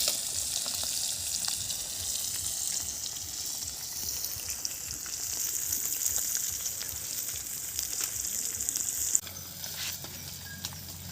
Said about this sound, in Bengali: কালো জিরে তেলের মধ্যে দিয়ে দিলাম